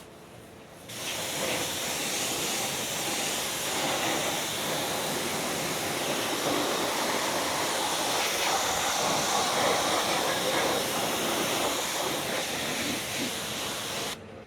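A water hose rinses a car wheel with a steady, loud hiss of spray that runs unbroken for most of the stretch and stops near the end, with no talk.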